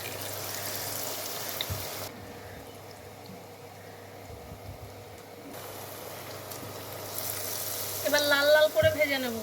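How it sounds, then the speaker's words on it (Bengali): Bread chops dipped in gram-flour batter deep-frying in hot oil, a steady soft sizzle throughout, with a brief louder bubbling burst near the end as the pieces are stirred. "এবার লাল লাল করে ভেজে নেব।"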